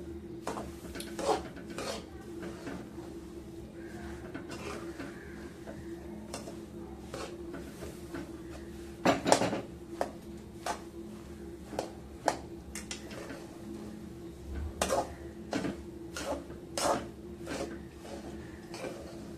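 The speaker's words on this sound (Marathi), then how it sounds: "तर पूर्ण या लाह्या अशा टाकून घ्यायच्या आणि पटापट हलवायचं।" Puffed amaranth (rajgira) stirred quickly in a pan over low heat, giving soft scraping rustles and scattered sharp clinks of a spoon against metal, steady and close with no talk.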